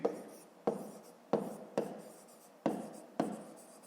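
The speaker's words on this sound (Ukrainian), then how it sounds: "Тоді пишемо частини ділянки." A pen writes out a fifth-grade math exercise on paper in a quiet room, with six crisp, evenly spaced strokes.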